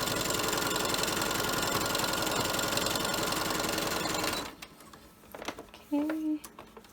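A sewing machine stitches a fabric face mask made from fat quarters, running in a fast, steady whir for several seconds before stopping abruptly near a corner, followed by faint handling sounds and a brief voice.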